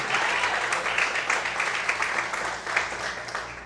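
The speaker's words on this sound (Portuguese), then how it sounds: "Você pode aplaudir o Senhor?" Church congregation applauding during a sermon, a broad sustained wash of many hands clapping with slight swells, filling the room at moderate loudness.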